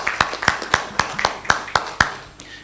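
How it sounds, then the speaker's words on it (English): Slow, evenly spaced claps for Shekhar Mehta at a district conference, about nine sharp hand claps in a steady rhythm, close and clear with little crowd noise. "let's just give him a warm round of applause"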